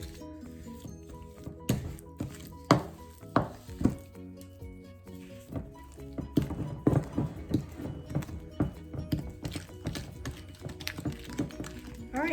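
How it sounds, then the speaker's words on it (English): Irregular knocking and scraping of a spoon against a bowl creaming butter and sugar, clacking in uneven bursts as the mixture is worked and mashed, fairly quiet. "Just kind of chopping up that big sugar."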